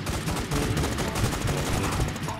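Rapid automatic gunfire rattles continuously against the boss Tyrant in the online shooter Infestation, dense overlapping shots from several weapons, loud and close with no pause.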